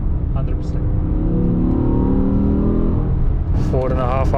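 BMW E60 M5 engine with a new air intake revs up hard and holds a loud, steady rising drone for a few seconds before easing off, with a voice speaking briefly near the end.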